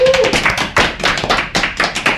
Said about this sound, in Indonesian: Tepuk tangan untuk teman-teman semuanya